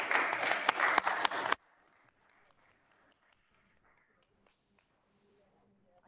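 Applause at a city council meeting, a brief patter of clapping that cuts off sharply and leaves a quiet room with faint murmuring.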